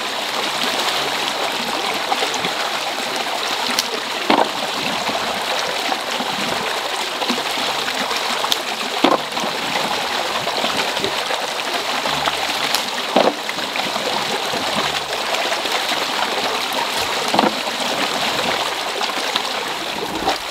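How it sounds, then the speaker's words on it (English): Water rushes steadily back through a hydroelectric penstock standpipe, a continuous loud churning flow with occasional faint knocks over the top. "So just let the water back through again."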